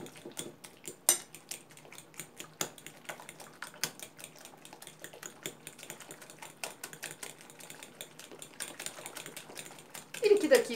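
Two eggs whisked in a bowl for a fit cake batter, a quick, steady run of close, light tapping clicks against the bowl, with faint voice in the background.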